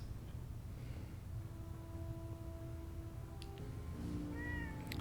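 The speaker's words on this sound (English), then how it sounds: "There's a cat over here." A cat meows in Fallout 4, with a few tonal calls rising late over a steady low game-ambience hum and no talk.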